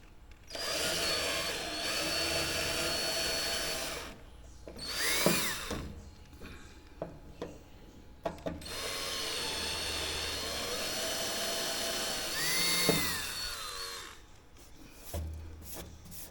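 A pistol air drill runs in long whining bursts, pausing and restarting, with short knocks and rubbing noises between runs, close by, while fitting wingroot fairings on a Rotec Renegade aircraft.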